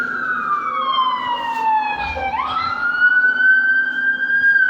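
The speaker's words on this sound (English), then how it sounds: "So you're going to hear the ambulance." A loud siren wails downward, then sweeps back up as the vehicle goes by, over a low engine and road hum.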